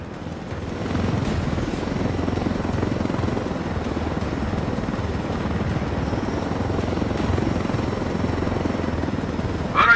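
Helicopter in a combat flight game, a steady loud rotor chop and engine drone holding constant throughout, with a brief louder swell at the very end.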